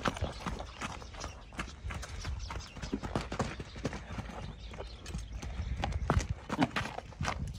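Hooves clip-clop at a steady walking pace, a horse's footfalls on firm ground, fairly close and moderately loud, with no talking.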